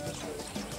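Brief dense burst of hoofbeats from a horse in the video game Far Cry 6, fairly loud and continuous for under a second.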